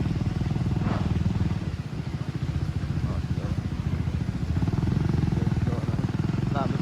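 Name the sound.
motorcycle riding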